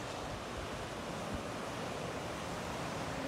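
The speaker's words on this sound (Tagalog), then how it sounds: "Nandito sa Ashwood Beach." Surf at Astwood Beach, Bermuda, a white-sand beach with rock formations, makes a steady broadband wash of waves that runs unbroken and fairly loud, with some wind noise on the microphone and no voices.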